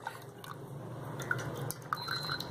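Water dripping and trickling from a squeezed cloth bundle of strained curdled milk while making rasgulla, heard as faint, irregular drips and light splashes over a low background hum.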